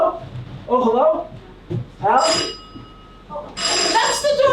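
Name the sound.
doorbell ringing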